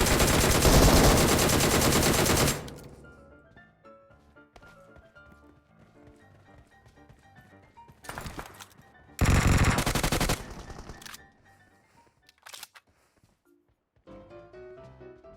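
Loud bursts of rapid gunfire in PUBG gameplay come in several separate volleys, with quieter tonal, music-like sounds filling the gaps between them.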